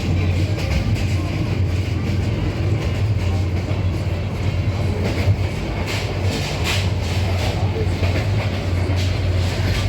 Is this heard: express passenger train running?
yes